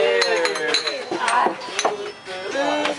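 Drinking glasses clink together in a toast, several bright chinks scattered over a few seconds amid lively background chatter and voices.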